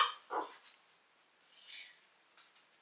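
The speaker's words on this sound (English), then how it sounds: "we have this adorable puppy who is an absolute handful" A young puppy barking and yipping indoors, a few short sharp barks and whimpers at moderate distance, quiet and scattered across a few seconds with no talking.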